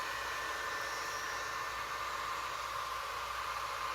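A heat tool blows steadily on resin art with mica powders and pigment paste, a constant airy hiss-like whoosh at close range, with no talking.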